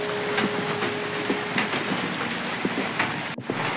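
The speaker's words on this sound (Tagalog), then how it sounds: "Basta yun ah, umuulan." Steady rain falls throughout, a dense hiss with scattered drops tapping close by on a hard surface.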